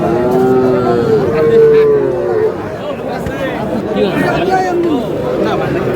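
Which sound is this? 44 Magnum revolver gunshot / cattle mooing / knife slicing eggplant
cattle mooing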